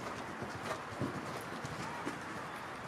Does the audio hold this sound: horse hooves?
yes